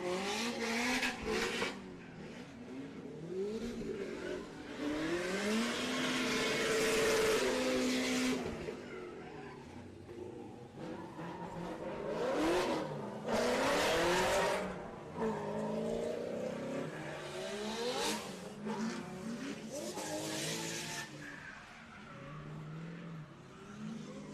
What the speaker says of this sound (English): we can hear the cars clearly through